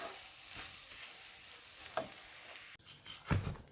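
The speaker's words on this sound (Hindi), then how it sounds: "चार से 5 मिनट यहाँ मसालों को भी भूनेंगे।" Spices, including red chilli powder, fry and sizzle in a pan for a chicken cheese roll filling, a soft continuous hiss broken by a few sharper scrapes and knocks near the end.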